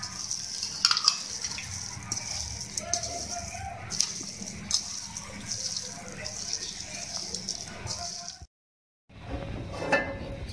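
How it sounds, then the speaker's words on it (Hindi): Green chilies, mint and coriander being mixed by hand for shami kabab, a soft continuous scraping and rustling close by, with a few light clinks, ending in a brief silence before the mixing resumes. "अब मैं इसको आप मिक्स करूँगी।"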